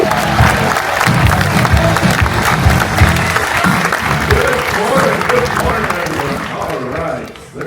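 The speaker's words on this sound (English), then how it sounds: "it is time to bring to the stage with a thunderous round of applause" Thunderous applause and cheering from a large crowd welcoming the ship's captain onto a stage aboard Harmony of the Seas, loud and sustained with scattered shouts, tapering off near the end.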